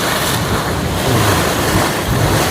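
The Pong Duead hot spring boils and gushes with a loud, close, continuous roar of rushing water, mixed with gusty wind buffeting the microphone.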